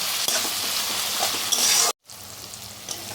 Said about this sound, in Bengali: এখন টমেটোটা পেঁয়াজটার সঙ্গে ভালো করে ভেজে নিচ্ছি